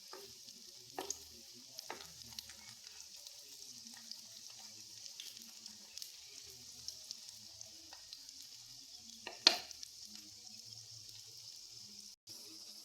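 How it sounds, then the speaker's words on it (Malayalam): Egg and wheat flour snack frying in hot oil in a pan, a steady soft sizzle with scattered pops and one sharper clatter, faint and close, with no talking. "പാൻ അടുപ്പത്ത് വെച്ച് എണ്ണയൊക്കെ ചൂടായിട്ടുണ്ട്. ഇനി ഇട്ട് കൊടുക്കാം. എണ്ണയ്ക്കകത്ത് ഇട്ട് കൊടുത്തു."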